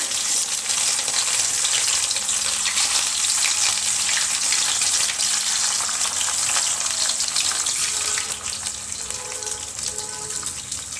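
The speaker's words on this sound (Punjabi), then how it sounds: "ਤੇਲ ਗਰਮ ਹੋ ਗਿਆ ਇਹਦੇ ਵਿੱਚ ਆਪਾਂ ਕਰੇਲੇ ਪਾ ਦਵਾਂਗੇ" Bitter gourds fry in hot oil, giving a loud, steady sizzle and crackle that stays dense throughout and eases slightly near the end.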